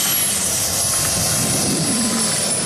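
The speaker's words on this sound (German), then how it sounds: "Die Cessna 102 Landung mit gesetzten Klappen" A steady engine drone of a small radio-controlled model Cessna aircraft landing with flaps set at an airfield show, constant and fairly loud throughout with no voices.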